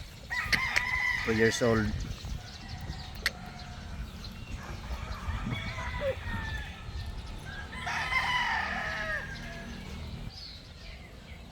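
Gamefowl broodcock roosters crow repeatedly in a farm yard, strong calls rising over a steady outdoor background, with someone talking throughout.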